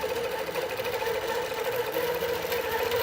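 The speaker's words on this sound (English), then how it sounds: "So we're just going to sew this next section." A sewing machine stitches a minky quilt with a fast, steady mechanical hum and rattle, close and continuous without a break.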